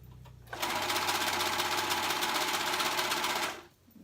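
A serger sewing machine runs in one steady, loud burst of about three seconds while stitching stretchy tee-shirt knit fabric, starting and stopping abruptly with quiet before and after.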